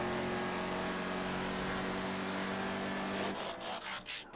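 A fast car roaring past in GTA FiveM during a race, a loud steady engine drone holding pitch before abruptly dropping away into choppy fading rushes, with no talking.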